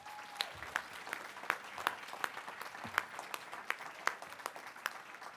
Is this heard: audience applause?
yes